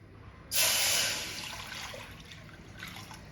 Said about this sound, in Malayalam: ഒന്നര കപ്പ് വെള്ളമാണ് എടുത്തിരിക്കുന്നത് അത് ഈ പാത്രത്തിലേക്ക് ഒഴിച്ചു കൊടുക്കാം